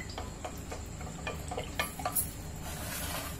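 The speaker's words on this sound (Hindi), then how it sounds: "अब इसको हम अच्छे से मिक्स कर लेंगे।" Milk sharbat with kewra water and Rooh Afza is mixed with a spoon, giving quiet rhythmic ticking clinks and soft swirling, faint and close, with no talking.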